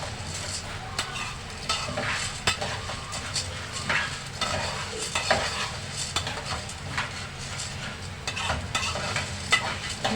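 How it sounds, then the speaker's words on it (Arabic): Potatoes fry in hot oil while being stirred over medium heat, a continuous close sizzle broken by frequent scraping and clunking of the utensil against the pan. "نقلب بقى هنا البطاطس"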